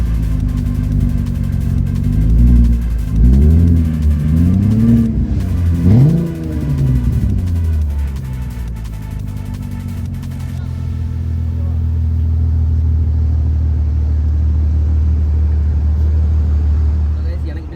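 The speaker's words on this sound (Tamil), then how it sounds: "காரோட நாய்ஸ் உங்களுக்கு கேட்குதான்னு பாருங்கள்" Dodge Challenger R/T V8 engine revving in several loud rising-and-falling blips, then settling into a deep rumbling idle, heard up close while someone talks over parts of it.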